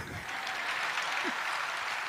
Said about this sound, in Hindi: ताली तो बजा ही दिया आपने